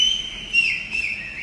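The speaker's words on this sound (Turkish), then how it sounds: "Duyuyor musunuz ıslıkları?" An audience whistles in short, high, thin bursts, several overlapping whistles rising and falling at moderate distance with no talking.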